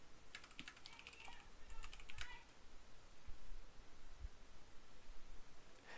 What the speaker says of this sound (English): you can type here the movie that you want